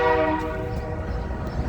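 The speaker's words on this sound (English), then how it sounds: "It's the Amtrak." An Amtrak train horn sounds as a steady sustained tone heard outdoors near an old restored building, the train out of sight, with a low rumble beneath and no talking.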